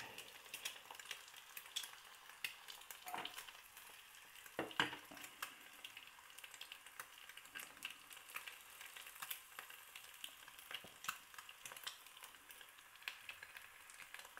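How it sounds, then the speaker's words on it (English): An egg fries steadily in a pan, a continuous crackling sizzle with scattered pops and occasional soft scrapes, heard close and alone without any talking. "Now I have to wait for the yolk to cook."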